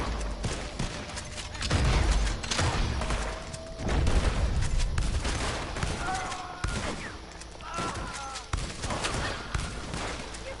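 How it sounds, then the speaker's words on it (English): Gunfire in the Red Dead Redemption 2 Online western game: repeated bursts of shotgun and machine-gun shots in uneven volleys, loud and close, with voices talking over and between the shots. "Could you stop shooting me?"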